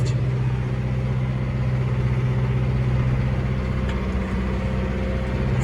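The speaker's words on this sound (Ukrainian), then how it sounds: "і пішли мотори включатися" A tractor engine and the motors of a Mustang seeder sowing soybeans in a field give a steady, close mechanical drone with a constant low hum throughout and no talking.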